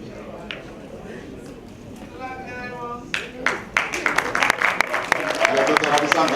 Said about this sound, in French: On l'acclame très fort.